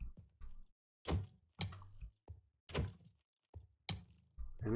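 A Minecraft skeleton firing arrows, giving a series of about eight dull thunks and thwacks at irregular intervals, fairly faint, with no speech.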